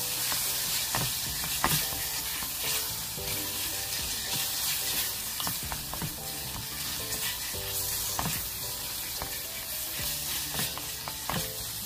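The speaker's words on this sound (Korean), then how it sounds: "그리고 고추장 1스푼, 작은 스푼으로 이렇게 해서 같이 볶아주세요" Doenjang and gochujang stir-fried with onion and garlic sizzle steadily in a pan, with repeated scraping strokes of a spoon stirring throughout, close and fairly loud with no talking.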